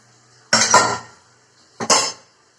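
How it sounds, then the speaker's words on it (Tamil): Steel pots and dishes clang in a kitchen sink during washing, two separate loud metallic clatters about a second apart, each ringing briefly before fading. "இங்க இருக்க 4 பாத்திரத்தை காலையில சமையல் செஞ்சுருக்கோம், அதெல்லாம் கழுவிடுவோம்."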